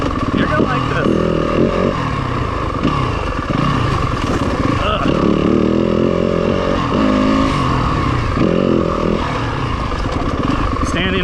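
A 2026 Yamaha WR250F dirt bike rides downhill through ruts and bumps, its engine buzzing close and loud in repeated bursts of throttle as the rider talks over it.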